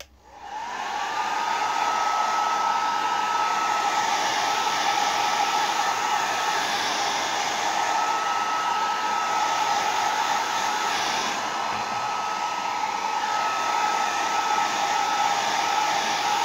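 A hair dryer blows continuously at close range to dry a vase, a steady loud whir with a whining tone that holds for the whole stretch after a quick start.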